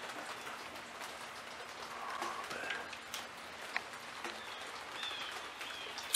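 Steady rain falls on a rainy morning in Annapolis, Maryland, a continuous soft patter with scattered drips and faint distant chirps, fairly quiet with no talking.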